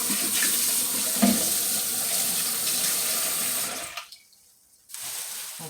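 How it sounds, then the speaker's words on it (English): Steady, close rush of tap water pours into a kitchen sink while a bowl is rinsed under it. The flow cuts off briefly near the end, then resumes. "I'm gonna rinse it out first."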